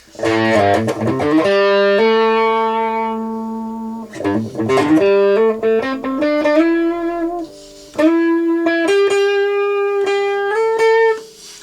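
An electric guitar through a Boss OD-200 with a gritty, overdriven tone plays sustained notes and short chord stabs, each ringing out with a wash of reverb.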